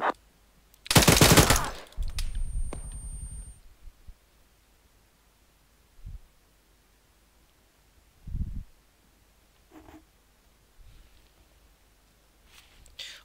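Machine gun fire in the military shooter Arma 3: a loud, dense burst of automatic fire near the start, followed by a second rattling stretch, then a few scattered single shots over quiet background.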